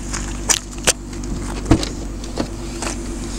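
A 2015 Dodge Grand Caravan with the Pentastar V6 gives a few short, sharp mechanical clunks and clicks from its power windows and door locks, spaced apart inside the quiet cabin.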